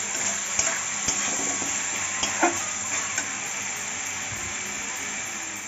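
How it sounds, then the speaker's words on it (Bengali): Potatoes fry in oil-rich spice masala in a pan, giving a steady close sizzle and hiss with a few light scrapes of stirring. "আলুটা দিয়ে একটু হালকা করে কষিয়ে নেব।"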